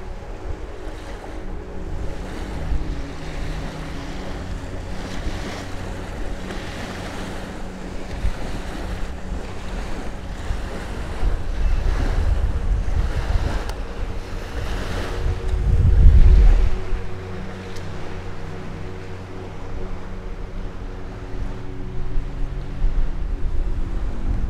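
Wind roars and waves wash steadily on a Scottish loch, a dense, continuous rush buffeting the microphone, swelling louder midway with no voices heard.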